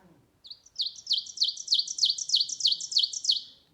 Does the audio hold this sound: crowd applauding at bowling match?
no